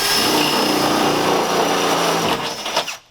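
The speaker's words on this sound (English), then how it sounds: "drill it out" A power drill whines loudly and continuously as it bores into A-frame interior wall framing, then winds down and stops in the final half second.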